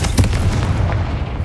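A Confringo spell explosion in the Hogwarts Legacy video game, heard as a sustained, heavy booming blast with low rumble that stays loud through the whole short burst and carries no talk.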